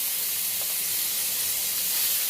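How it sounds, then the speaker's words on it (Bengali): A loud, even sizzling hiss continues without a break, like food frying hard in hot oil. "দিয়ে একটু মশলাটা একটু ভেজে নিচ্ছি"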